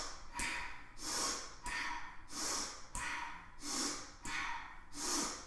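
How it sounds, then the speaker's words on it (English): Slow, even breaths during a yoga breathing exercise, each deep inhale and long exhale alternating in a steady rhythm of about six breaths, close and fairly soft, with no talking. "We inhale and exhale."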